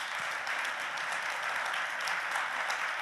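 Steady applause from the audience at a French round-table panel on territories and business, a dense, even wash of clapping held at moderate level throughout with no talk over it.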